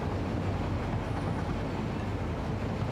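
A train rumbles along in the factory-building video game Satisfactory, a steady, dense rolling noise with no talking over it.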